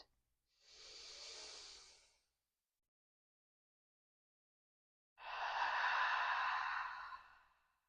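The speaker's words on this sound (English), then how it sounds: "Deep belly breath in. Open mouth exhale." Two deep breathing cycles during a morning yoga practice, each ending in a soft, airy open-mouth exhale that lasts about a second or two. The breaths are close, quiet and unaccompanied, with a long silent pause between them.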